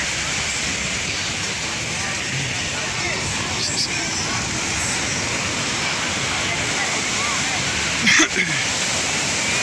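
Broadband surf wash of sea waves on Copacabana beach, a continuous roar at steady level with a brief louder swell near the end.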